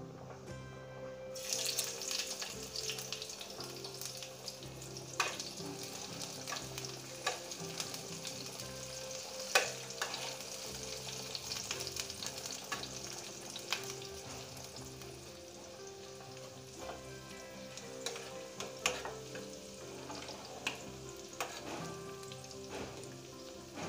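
Okra sizzles steadily in about two spoonfuls of hot oil in a kadai, a continuous close crackle punctuated by clinks and scrapes of stirring, with no one speaking.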